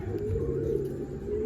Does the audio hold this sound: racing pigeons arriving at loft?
yes